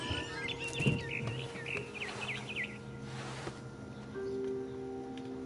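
A barn swallow chirps in What Remains of Edith Finch, a run of quick, high twittering notes clustered in the first few seconds over a quiet outdoor hum, with faint insect-like buzzing and no talking.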